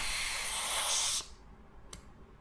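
Compressed air hisses loudly from a leaking fitting on a brand-new air tool, a steady spray that cuts off abruptly after about a second, followed by one brief fainter puff.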